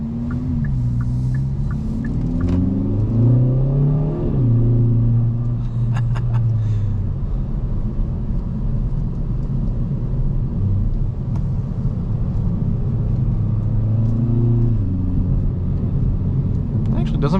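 A 2024 Kia Forte GT with front-wheel drive cornering through an S-turn on a public road, its engine rumble rising and falling in pitch through the bends under steady road noise, heard from inside the cabin while a person talks.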